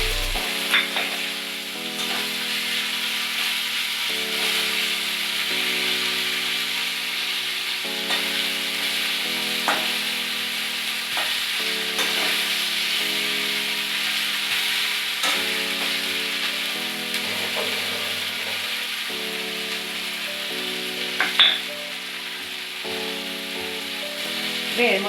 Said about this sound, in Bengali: পেঁয়াজ আলু একসঙ্গেই ভাজা হবে।